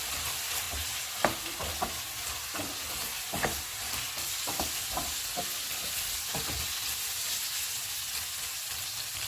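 Garlic chili sauce, sugar, crushed black pepper and soy sauce fry over full heat with a steady loud sizzle, broken by scattered scraping stirs of a spoon in the pan.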